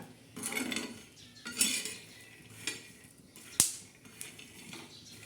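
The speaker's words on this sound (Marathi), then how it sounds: "असे छान असे भाजू घ्यायचे तव्यावर" Peanuts rattle and scrape on a hot griddle as they are stirred, with a few sharp metallic clinks and a faint sizzle underneath.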